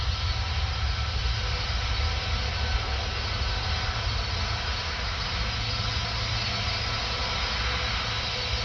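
An Airbus A330 taking off from Paris Orly airport, giving a constant, loud broadband engine roar with no breaks across the whole stretch.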